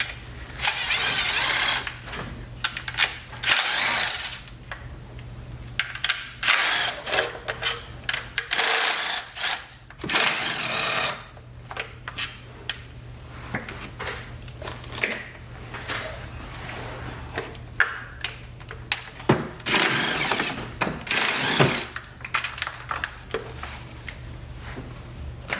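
Ten-millimetre bolts being removed during a car engine repair, with busy mechanical clicks, rattles and ratcheting in close, irregular bursts across the whole stretch and no talking.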